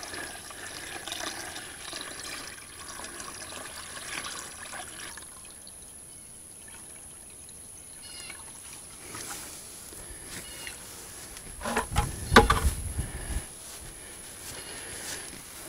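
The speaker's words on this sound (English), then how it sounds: "pour it back down into the well" Bleach-treated water pours back down into a well casing, a quiet trickle and splash that swells into a louder gush of liquid for about a second before easing off again.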